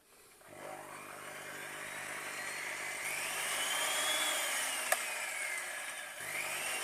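A repaired Bosch hand mixer switched on at the mains, its small motor whining steadily as the pitch rises and settles, close and fairly quiet with a brief click near the end.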